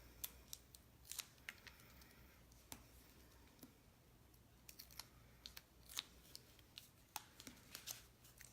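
Strips of Tear and Tape adhesive are torn by hand for a glimmer paper craft project, giving a series of sharp, dry rips and crinkles at an irregular pace over quiet room tone.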